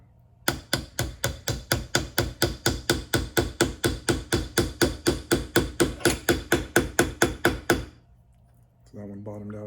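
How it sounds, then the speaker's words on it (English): A small double-sided hammer with nylon and brass tips taps pins into a recoil pad on a Winchester 1897 shotgun stock, about thirty quick, even, close strikes in a steady rhythm, then a short rattle. "I used a small double-sided hammer with a nylon tip and a brass tip"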